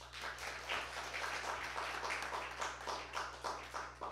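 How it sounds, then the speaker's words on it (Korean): Church congregation applauding during a Sunday worship service, a steady wash of many hands clapping together for several seconds over a low hum, moderately loud and without speech. "박수 한번 부탁드립니다."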